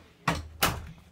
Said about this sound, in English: I'm just gonna shut this door for a minute.